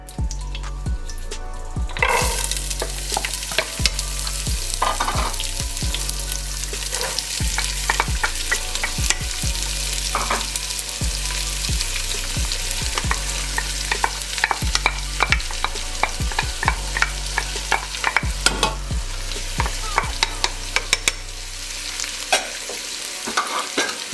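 Food sizzling in a frying pan while it is stirred, for a clam chowder with diced potatoes, with repeated scraping and clinking strokes over a constant close fry sound.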